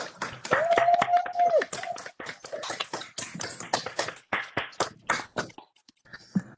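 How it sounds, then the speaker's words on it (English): Scattered, uneven claps from unmuted participants on a virtual town hall call, picked up through separate microphones, with tapping-like transients, a brief steady tone early on, and thinning toward the end. "give our panel a round of applause"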